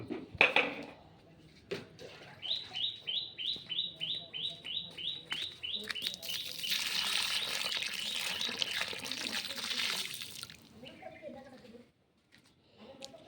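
Water is poured onto a panneer rose plant outdoors, a steady gushing splash of several seconds that follows a stretch of rhythmic bird chirping nearby, then fades to near silence.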